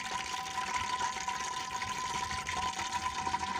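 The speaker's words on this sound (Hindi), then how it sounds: "ऑयल गर्म हो गया है और अब इसके अंदर डालेंगे हम प्याज।" Chopped onions hit hot oil for a chana gosht curry, producing a soft, steady sizzling hiss that stays even and fairly quiet throughout.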